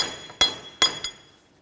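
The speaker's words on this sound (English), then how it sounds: "Take a punch and a hammer, come right inside where the axle is and break it free from the bearing" Three sharp metallic strikes of a hammer on a punch against the axle bolt of a Volvo S40, two strong hits followed by a lighter tap, each with a brief ringing decay.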